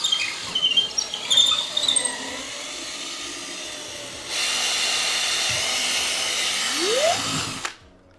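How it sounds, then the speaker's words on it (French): A power drill bores into a toilet tank during bathroom renovation work, a steady close whine that grows louder midway and then winds down and stops. "on enlève la lumière et là je peux aller percer dans le réservoir"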